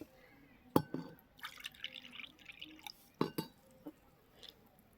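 Water poured into a bowl of semolina and stirred by hand, giving a few sharp splashy drips and wet squishing sounds in short bursts, close and fairly quiet.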